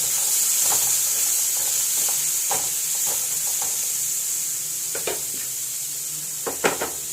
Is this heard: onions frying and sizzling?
yes